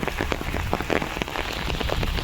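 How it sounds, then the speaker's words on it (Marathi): Heavy rain pours down steadily in a dense, loud hiss with close drops pattering on surfaces throughout, no voices heard. "आमच्याकडे तर असा जोरदार पाऊस चालला आहे"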